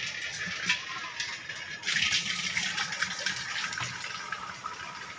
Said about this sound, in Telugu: వాగులో వాటర్ పోతున్నాయి, వాటర్ సౌండ్ వస్తుంది